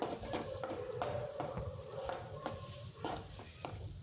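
Egg frying with masala in a pan for egg fried rice, a soft steady sizzle under repeated light clinks and scrapes of a spatula stirring against the pan.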